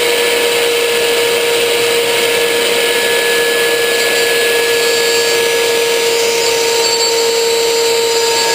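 A router or similar power tool with a bit cuts a roughly half-inch-deep groove in a teardrop trailer build, running as a loud, steady whine with no pauses throughout.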